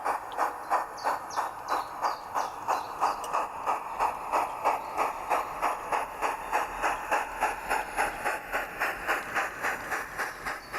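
Model railway passenger train on a Southwold Railway layout pulls away with a steady, regular clickety-clack of wheels over rail joints and a soft hiss, close and continuous with no talk.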